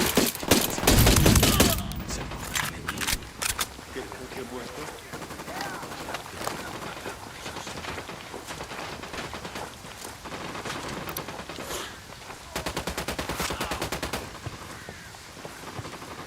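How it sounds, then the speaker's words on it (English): Gunfire in the video game Ghost Recon Wildlands during a firefight, opening with a loud close burst of rapid shots, then scattered volleys and crackling automatic fire continuing throughout, with game voices shouting over it. "I'm opening fire on these shitheads."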